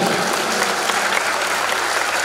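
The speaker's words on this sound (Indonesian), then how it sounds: "Tepuk tangan kita semua." Audience at a parenting seminar claps, a dense, loud, continuous wash of applause filling the whole moment, with no distinct voices over it.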